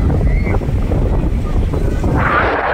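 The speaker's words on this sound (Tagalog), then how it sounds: "Sobrang lakas ng hangin." Strong wind buffets the microphone with a steady low roar, and the surf rushes faintly underneath.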